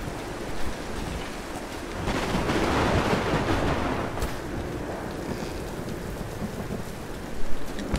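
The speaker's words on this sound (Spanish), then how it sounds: "Uy, sí, me espantó el trueno." Steady heavy rain pours through a thunderstorm in the Tomb Raider Definitive Edition game, with a broad rumble of thunder swelling in the middle and a few sharper crackles near the end.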